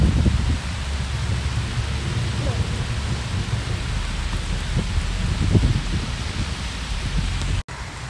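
Steady, close rain falls at a golf course, a dense hiss with low rumbling throughout and faint voices in the background.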